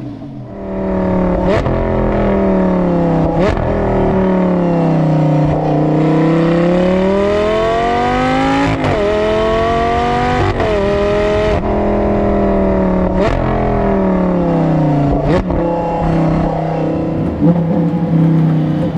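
A Lamborghini Gallardo engine revs loudly and continuously, pitch rising and falling through repeated accelerations and sharp downshift blips, with no talking.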